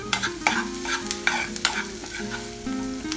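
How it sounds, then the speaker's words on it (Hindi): Onions sizzle in a pan as they are fried and stirred for tomato chutney, with a steady crackle broken by repeated scraping stirs, close up and with no talking. "अब मैं इसमें प्याज डाल रही हूँ। प्याज को हमें गुलाबी होने तक पकाना है।"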